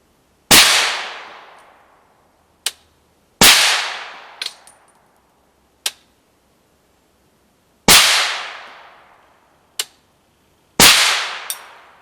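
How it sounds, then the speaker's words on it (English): A 300 Blackout rifle fires supersonic MagTech 123 grain ammunition in four loud, sharp cracks spaced a few seconds apart, each followed by a decaying echo and a fainter metallic click or ping. "So let's put down a 5-shot group with supersonic."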